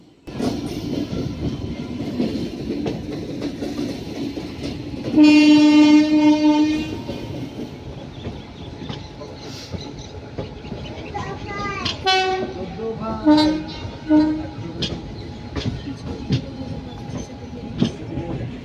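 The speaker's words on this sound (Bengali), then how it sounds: "এবারে কিন্তু ট্রেনটা চালু হয়ে যাবে" A passenger train in hilly country sounds a long horn blast, then rolls on with a steady rumble and wheel clatter, giving a second, broken horn call midway; the noise stays moderately close, with faint voices in the background.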